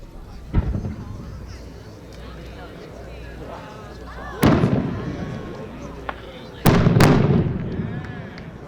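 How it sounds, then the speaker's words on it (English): Large 8-inch aerial shells with gold brocade breaking to silver salutes at a winter fireworks show go off as several loud, booming bursts, two close together near the end, each trailing a rumbling crackle, with faint crowd voices. "The bangs are the salutes,"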